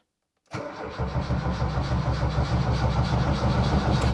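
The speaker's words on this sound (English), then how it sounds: "Then let's try to turn the engine over." A LADA Niva engine cranks briefly after a moment of silence, then catches and settles into a steady, fairly loud running hum with no voices.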